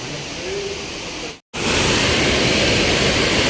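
A waterfall beside a temple in heavy flow, a loud, steady broadband rush that swells up close after a short break, with faint talk beneath the earlier quieter part.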